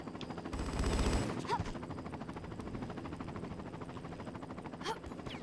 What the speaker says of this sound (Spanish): Me está disparando el de abajo